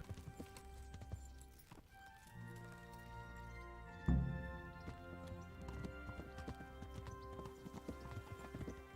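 Horse hooves clip-clop in the medieval game Kingdom Come: Deliverance, a steady close trotting rhythm with a sharp thump midway, under soft ambient music.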